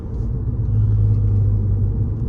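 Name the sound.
Audi A6 car rumbling while driving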